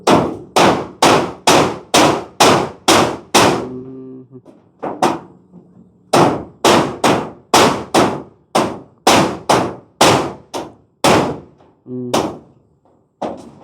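Loud, rapid hammer blows ring out in steady bursts of repeated strikes, separated by brief pauses with faint metallic resonance.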